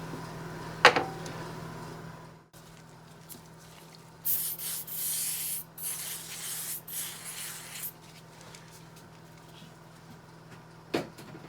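Inside an MGB differential housing, a cleaning rag or brush rubs and scrubs in short bursts, with a couple of sharp knocks and quieter pauses between strokes, close up.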